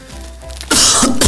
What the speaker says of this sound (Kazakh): сіздің жөтеліңіз қатты ғой